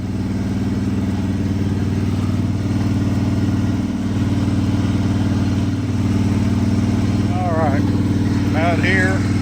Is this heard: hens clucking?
no